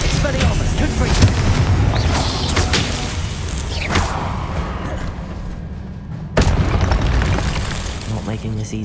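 Confringo blasting spell explosions in the Hogwarts Legacy video game. Loud, rumbling booms and bursts fill the scene, with one sharp blast near the end, mixed with speech.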